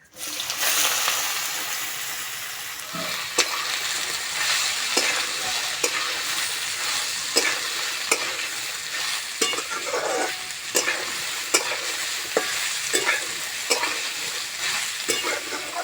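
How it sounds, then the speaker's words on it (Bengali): Boiled potatoes, with cashews and raisins, frying over low heat in a pan for potato pulao: a steady close sizzle runs throughout, broken by repeated scraping clicks of a spoon stirring, with no talk. "জোরে জাল দেবো না আস্তে আস্তে জাল দেবো ভেজে নেব"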